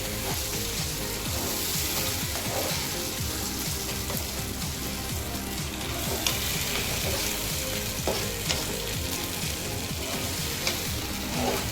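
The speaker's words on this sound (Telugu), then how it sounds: "బాగా మసాలా ఈ పెరుగు పడే కలిసే వరకు బాగా పట్టే వరకు కలుపుకోవాలి." Paneer curry masala mixed with yogurt fries and is stirred in a pan. A dense, loud, continuous sizzle and bubbling fills the whole stretch, with occasional scraping taps from the stirring.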